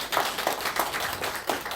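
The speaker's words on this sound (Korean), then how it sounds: "네, 한 박수 부탁드리겠습니다." Church congregation claps in a short burst of applause, a quick run of close, sharp, evenly spaced claps lasting under two seconds.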